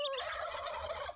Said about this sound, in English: There must be 500 turkeys in that coop.